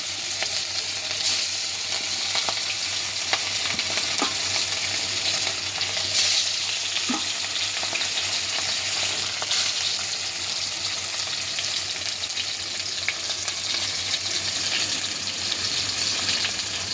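Katla fish fries in a pan with a steady, close crackling sizzle that carries on throughout, dotted with occasional sharper pops and spatters.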